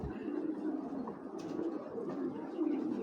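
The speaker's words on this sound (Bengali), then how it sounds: "দর্শক, এটা একটা মাদি কবুতর" A female racing pigeon coos softly in low, rolling murmurs, close but faint, repeating in a gentle steady rhythm against a quiet background.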